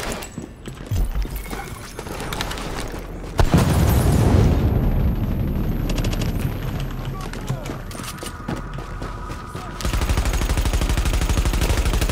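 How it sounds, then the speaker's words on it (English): A grenade blows up during a mission at Grand Central Station in the game The Division, a loud booming blast followed by a long rumbling roar and bursts of gunfire, with a player's voice heard at points. "Come on now, grenade, do your work."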